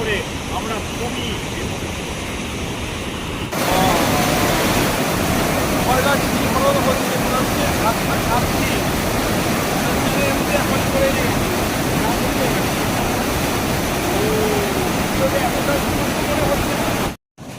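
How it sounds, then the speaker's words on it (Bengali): The Hingal river in monsoon flood surges through a broken dam among hills, a loud, steady roar of rushing water that swells slightly after the opening seconds and holds unbroken to the end. "বাঁধ ভেঙে স্রোত কীভাবে যাচ্ছে আপনারা দেখুন"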